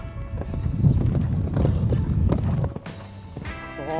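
A horse canters or gallops during a test ride, its hoofbeats thudding in a quick, rolling rhythm close by, fading out near the end as faint tonal sounds appear.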